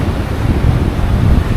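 Strong wind and surf at Morjim Beach in North Goa, a loud, steady, blustery roar of gusts buffeting the microphone over the rumble of breaking waves.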